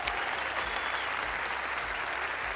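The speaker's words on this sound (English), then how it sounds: "Round of applause, Penn and Teller, everyone" A studio audience at a televised magic show applauds Penn and Teller, a steady wash of clapping from many hands, moderately quiet and continuous throughout the short stretch with no talk over it.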